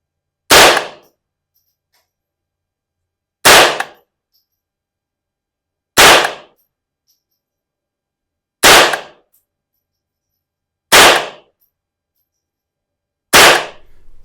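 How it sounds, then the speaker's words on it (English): Six sharp, loud .22 rifle shots ring out at an outdoor shooting range, spaced about two and a half seconds apart, each a crisp crack with a short decay and silence between. "I was only shooting 22, so there's not a ton of recoil obviously"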